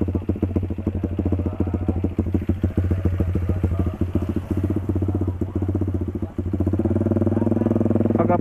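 A Suzuki Sonic 150R motorcycle engine runs with a rapid, rattling, close-up chug, throttle blipped repeatedly, then settles into a steadier, louder drone near the end.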